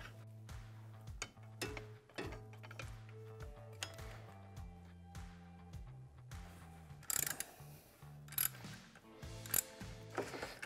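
Ratcheting and clicking as a clutch puller is tightened to pull the primary clutch off a Polaris ATV, the clutch held with a holding tool; uneven bursts of close metallic ratchet clicks and clinks, some louder toward the end, no speech.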